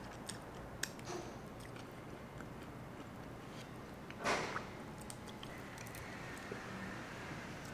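Crispy salt and vinegar chicken wing skin gets bitten and chewed up close, giving one sharp, brief crunch midway through an otherwise quiet stretch.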